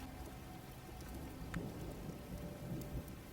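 Steady rain falls with faint distant thunder rumbling underneath, a continuous soft wash of drops with a few slightly louder patter peaks, quiet and even throughout with no voices.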